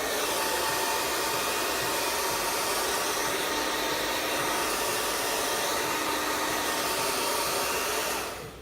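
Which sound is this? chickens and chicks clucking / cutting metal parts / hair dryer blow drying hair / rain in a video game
hair dryer blow drying hair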